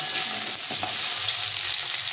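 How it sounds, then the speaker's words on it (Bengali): Potato pieces frying in hot oil in a pan, a steady, close, bright sizzle that runs without a break, with no voices. "এই আলুটাকে ভেজে নেব। আলুটা সবার আগে ভেজে নিয়ে তারপরে পটলটা ভেজে নেব।"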